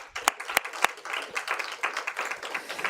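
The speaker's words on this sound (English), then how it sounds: "Please give them a big round of applause." A few loud, close single claps start things off, then a small audience joins in with brisk, scattered applause that keeps going.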